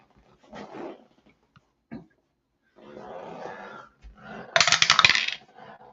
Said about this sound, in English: And we drop the dice, of course.